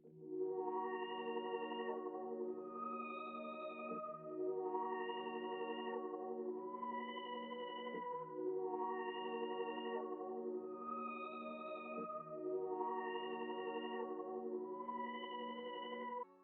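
A simple synth pad pattern from the Prince plugin's Faulty Culture preset, playing sustained chords that shift roughly every four seconds with soft bell-like upper tones, steady and alone without any talking.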